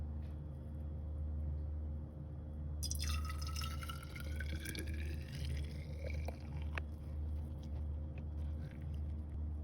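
Homemade cherry juice poured into a bottle, a thin trickling stream that starts a few seconds in and carries on over a low steady background hum.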